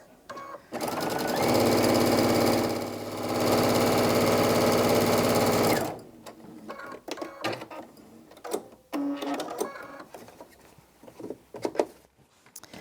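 A sewing machine stitches half square triangle quilt fabric in one loud, steady mechanical whir lasting several seconds, then stops, leaving quieter fabric handling and rustling.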